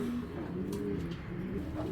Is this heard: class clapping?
no